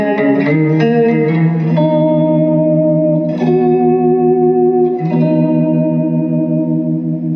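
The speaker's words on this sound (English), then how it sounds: "That's pretty basic. It's a reverb." Guitar chords played through a reverb pedal ring out with a washy reverb tail, each strum blooming and sustaining into the next; three strums, loud and close, no talking.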